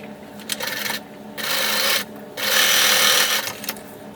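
A sewing machine stitching the corners of a fleece and sherpa blanket runs in three short bursts with brief pauses between, close and steady, alone without talk.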